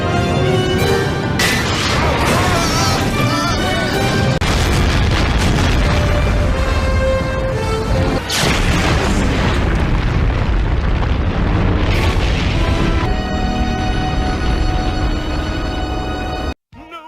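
A cartoon explosion booms loudly, followed by sustained rumbling blasts and crashing debris mixed with music, which ends abruptly near the close.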